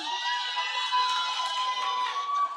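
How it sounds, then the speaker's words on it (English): A school audience of children at a career day cheers and claps, a steady bright roar of high voices and applause that stays loud and dense throughout, with a sustained tonal squeal running underneath. "I haven't had an applause like that for a very long time"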